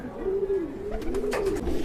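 Racing pigeons arriving at a loft, with soft cooing calls and light fluttering and shuffling close by, set against a steady background hum.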